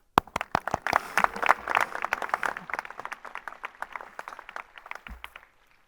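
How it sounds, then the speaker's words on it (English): Scattered clapping from a high school graduation audience, a moderate group of distinct hand claps starting sharply, building briefly, then thinning out and fading to silence within about five seconds. "I would like to give a round of applause to all the parents, friends, families, and the wonderful staff"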